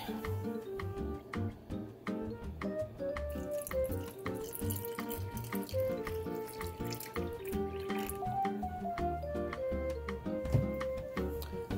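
Water runs steadily from a kitchen tap while it is gathered for a rock tumbler, a continuous splashing stream with faint dripping and ringing tones mixed in, fairly quiet and unbroken by talk.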